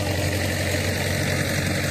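Tractor engine on a handle-start tractor running in first gear high range while pulling a rotavator through a field, a steady loud chugging drone with constant vibration throughout and no voices.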